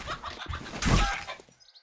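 Chickens cluck in the survival video game 7 Days to Die, a short burst of close clucking mixed with a rough crunching game sound, fading out quickly.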